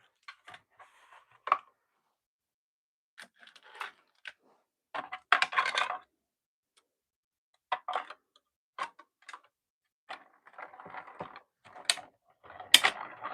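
A Gina K mini intri cut die-cutting machine working through a cut: quiet, sparse mechanical clicks and ticks, some in short bursts, with a brief grinding whir midway and no talk over it.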